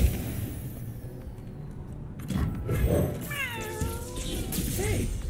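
Cat meows from the card game Legends of Runeterra, a couple of wavering calls in the second half over steady background music and ambience.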